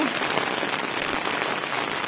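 Steady rain pours down on a black gram farm field, a dense, even hiss of drops striking crops and waterlogged ground with no letup and no voices.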